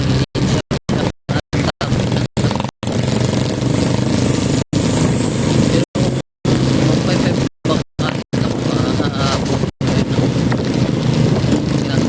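A motorcycle engine drones steadily with wind buffeting the microphone, cut by frequent brief dropouts, while riding from Quezon City to Alabang.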